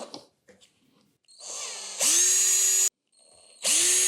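A power drill whirs in two loud bursts on an Arrma Gorgon RC truck, spinning up with a rising pitch and stopping abruptly, after a few faint clicks of handling.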